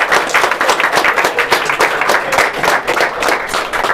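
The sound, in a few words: applause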